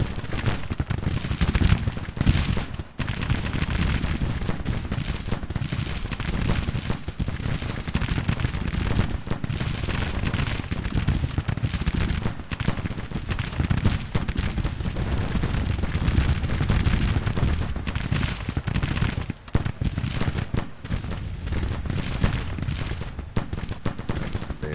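Sustained, dense gunfire from a Civil War battle game, with continuous volleys of musket shots and booming reports running loud and unbroken throughout, with no talk over it.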